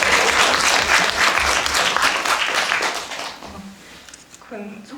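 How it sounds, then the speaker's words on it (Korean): Audience applause at a film talk event, dense and loud clapping for several seconds that fades out, followed by a voice speaking near the end. "박수 한번 쳐드릴까요?"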